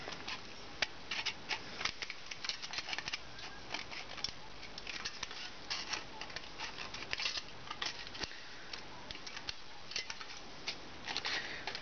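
Scissors cut through thin aluminium sheet in quick, irregular close snips and crisp metallic clicks, faint and continuous without speech.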